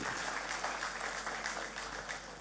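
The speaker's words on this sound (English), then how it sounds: "Let's give Josiah a round of applause" A church congregation applauds to welcome a three-week-old baby: a continuous wash of clapping, fairly faint and distant, steady throughout with no voices standing out.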